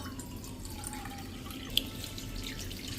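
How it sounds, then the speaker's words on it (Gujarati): A cup of filtered drinking water trickles gently over fresh rose petals arranged in a vessel for homemade rose water, a soft, steady pour with one small splash partway through and no speech. "એમાં આપણે પીવાનું પાણી, જે ફિલ્ટર પાણી હોય ને એ જ નાખી દેવાનું છે 1 કપ"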